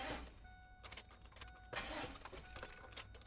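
A car engine cranking over in two short, faint bursts of starter turning, close by with no voices.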